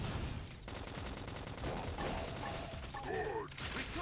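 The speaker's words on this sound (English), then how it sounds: "Flame grenade." Flame grenade art detonating in Xenoblade Chronicles X: a dense, crackling run of blasts and mechanical clatter lasting several seconds, with bright tonal game effects rising near the end.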